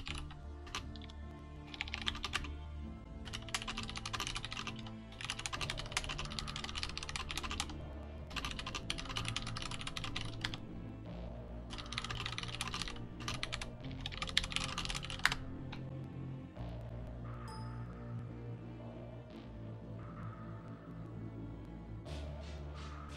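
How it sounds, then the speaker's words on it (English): Rapid typing on a computer keyboard in bursts of quick clicks with short pauses, close and fairly loud over a steady low background hum from an esports match broadcast. "I apologize to anyone watching this match for the typing sounds"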